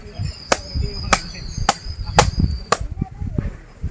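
Sharp knife chops cutting open palm fruit (nungu) in a village setting, five crisp evenly spaced strikes followed by softer handling noises, close up with no talk.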